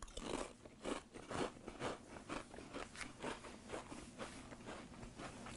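Butter Caramel Pringles chips from Korea are bitten and crunched close up, a steady run of loud, crisp crunches in quick rhythm with no talking.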